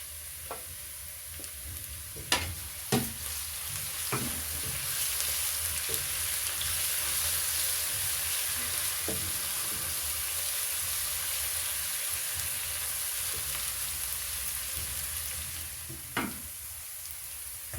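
Garlic and ginger paste fries in a pan with a steady, even sizzle, broken by occasional scrapes and clinks of stirring.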